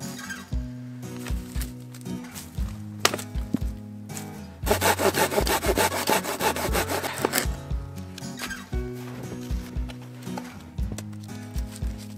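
A hand saw cuts through wood in a winter mountain hut, its strokes rasping in a steady back-and-forth rhythm, with a faster, denser burst of sawing partway through.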